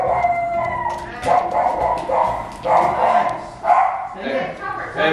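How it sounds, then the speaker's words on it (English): A dog barks and howls excitedly at a front door during a delivery, giving a run of loud, close, drawn-out yowling barks in rhythmic bursts roughly a second apart. "The dog's crazy."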